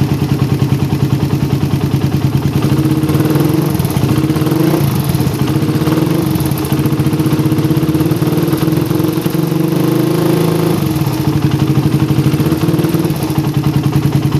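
A motorcycle engine idles after a carburetor setting with a filter, giving a loud, close, steady rapid putter with mechanical clatter throughout.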